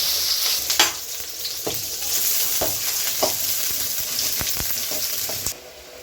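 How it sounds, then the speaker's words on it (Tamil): Onions hit hot oil for tempering a goat curry, giving a steady crackling sizzle close by, punctuated by a few sharp clicks of stirring utensils against the pan, with no talking. "தாளிக்கிறதுக்கு வெங்காயம் போட்டுக்கலாங்க."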